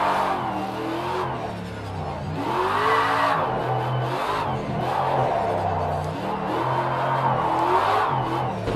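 A Ford Mustang RTR drifting in the racing game Project Cars 2, its engine revving and wailing in repeated rising and falling sweeps with tyre squeal, loud and continuous, with a crowd-like roar underneath.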